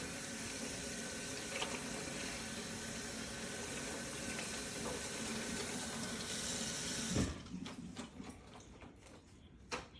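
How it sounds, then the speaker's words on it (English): Asparagus rinsed under a running kitchen tap, a steady rush of water that stops partway through, followed by a few faint drips and clicks. "Let's go back here and give our asparagus another rinse."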